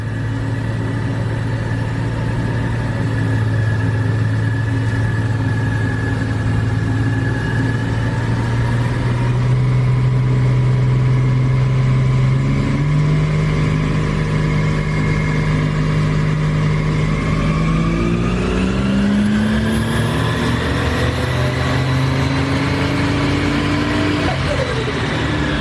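A turbocharged Ford Barra six-cylinder engine in an old turbo conversion runs on a dyno, a loud steady drone that climbs in pitch as revs build through the pull.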